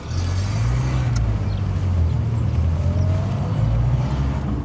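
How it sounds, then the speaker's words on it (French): A Peugeot 104 engine runs steadily at idle, a low continuous hum that holds the same level throughout with no speech over it. "Le doux bruit du moteur 104."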